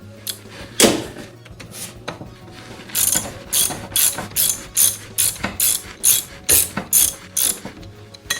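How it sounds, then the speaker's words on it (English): A ratchet wrench removes the PTO bolt from a Briggs and Stratton Intek 20 HP V-twin engine, clicking in a rapid rhythmic series of loud, close bursts after a few earlier single clicks and knocks, with no voices. "I've gone ahead and removed this PTO bolt"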